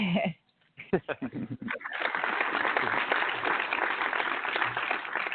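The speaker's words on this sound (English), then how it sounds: "Let's applaud Larry" Clapping from a small group in a barber shop talk show, starting after a brief burst of talk and continuing as a steady, fairly loud patter for several seconds.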